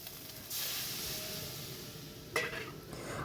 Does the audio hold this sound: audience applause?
no